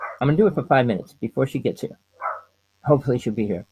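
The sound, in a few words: dog barking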